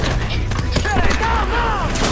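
Gunfire from a firefight in Crysis Remastered, a burst of shots blending into steady loud combat noise while voices talk and shout over it.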